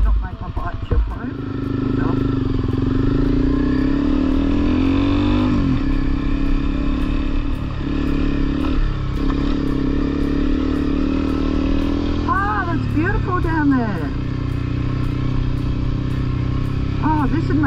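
An adventure motorcycle riding a dirt bush trail in Gwydir River National Park, Australia, its engine droning loudly and steadily with shifts in revs, while the rider talks over it.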